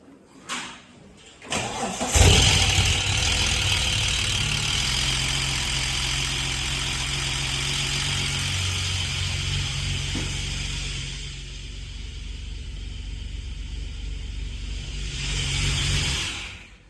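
A green top engine in a Ford BA Falcon drift car cranks and catches, then idles loud and close with a rough, uneven note for a long stretch.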